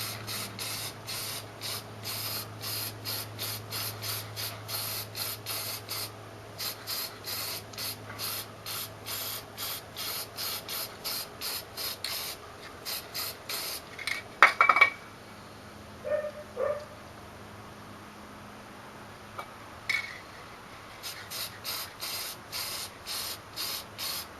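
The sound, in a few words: spraying aluminum paint on a GL1100 cylinder head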